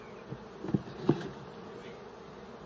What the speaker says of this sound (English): The bees are still calm